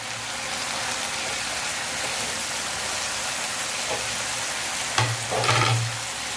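Cashews roast in an onion gravy base in a pan for butter chicken, giving a steady broadband sizzle with a couple of brief stirring scrapes and clinks near the end; no one speaks.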